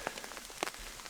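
Rain falling through trees on the GR20 trail in Corsica, a soft steady patter of drops on leaves with a few sharper taps standing out, fairly quiet and close.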